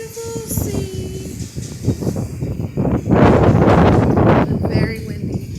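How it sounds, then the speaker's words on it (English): Strong wind by the sea at a seaside pavilion buffets the microphone in loud, rushing gusts that swell toward the end, with a person talking over it. "Very windy"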